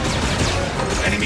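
A turret in the Star Wars Outlaws video game fires a dense, loud barrage of blasts amid game effects and a faint voice.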